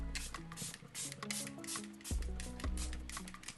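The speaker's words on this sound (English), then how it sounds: "we're gonna go in with my Milani Make It Last Original Natural Finish Setting Spray" Milani Make It Last Original Natural Finish setting spray misted onto a face, a series of quick hissing pumps in an uneven rhythm, close and fairly loud, over faint background music.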